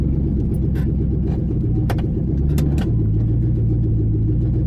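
A car engine, cold and not yet run that day, accelerates close by with a loud, steady throaty rumble. The tone shifts upward partway through.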